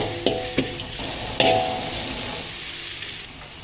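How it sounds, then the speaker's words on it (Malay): Shallots frying in oil from salted fish give a steady hiss and sizzle, with a few sharp clinks and scrapes of stirring near the start, the crackle easing slightly toward the end, no voices. "Mula kita nak goreng kita buah bawang merah dulu masuk"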